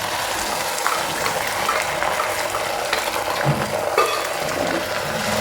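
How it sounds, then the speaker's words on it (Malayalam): Beaten egg sizzles as it hits hot oil in a pan, a steady crackling fry with small pops and scraping clicks throughout, at close range and without any talk. "മുട്ട ഒഴിച്ചു കൊടുക്കാം."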